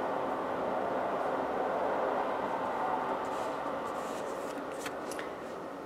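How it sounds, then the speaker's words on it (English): A passing train rumbles as a steady, broad wash of noise throughout, fairly loud and continuous, with faint clicks and rattles near the end as it fades slightly. "pardon me if you hear trains every 5 minutes"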